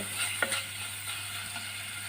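Ginger garlic paste sizzles and fries in a hot pan of oil, a steady soft crackle with a few brief clicks of a spoon stirring.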